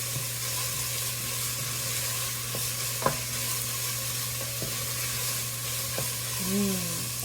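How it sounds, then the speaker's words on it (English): Eggplant stew base with turmeric sizzles steadily in a pot, with a spoon scraping and knocking against the sides every second or two, close and moderately loud, no voices. "So, I'm going to stir this around."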